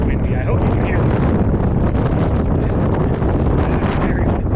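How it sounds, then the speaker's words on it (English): Strong wind buffets the microphone at Craters of the Moon National Monument, a loud continuous roaring rush that never lets up, with a voice faintly audible beneath it. "It's very windy here."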